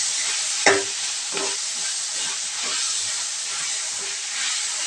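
Potatoes with turmeric and ginger-garlic paste fry in oil for a vegetable kurma, giving a steady loud sizzle with a sharp scrape of stirring near the start and softer stirring knocks after.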